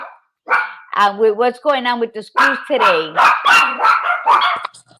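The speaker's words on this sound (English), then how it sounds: "excuse the dogs barking in the background." Dogs bark repeatedly in the background, with sharp yips and barks running under a person's steady talk throughout.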